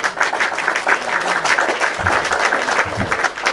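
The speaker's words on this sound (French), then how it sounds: "Mika, tu devais applaudir pour Isso." A group claps in steady, close applause to honour a speech, the patter dense and even throughout, with a few low thumps partway through.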